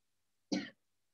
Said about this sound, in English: You might cough a few times if you haven't done it or if your throat is big.